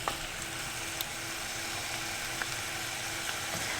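Peppers sizzle and fry in a pan of masala for a vegan chickpea curry, a steady, close hiss of oil with a few faint clicks and no talking.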